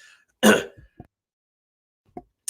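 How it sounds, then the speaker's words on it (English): A single loud, rough throat clearing up close, followed by a couple of faint mouth noises in otherwise quiet surroundings. "Sorry, I had to clear my throat there"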